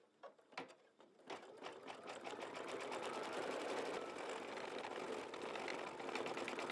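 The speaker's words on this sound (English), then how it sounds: "next color stop is going to satin stitch around the" An embroidery machine satin stitching around the edges of a mug rug, a few clicks and starts giving way to a steady, rapid, fairly quiet mechanical chatter.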